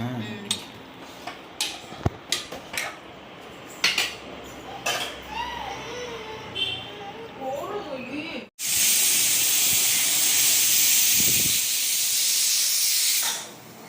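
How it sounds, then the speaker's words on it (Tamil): Kitchen clatter and scattered voices while cooking butter garlic chicken, then a loud, sustained hiss of steam bursting from a pressure cooker whistle, continuous for several seconds. "குக்கர் விசில் போடுவேன் இப்போ"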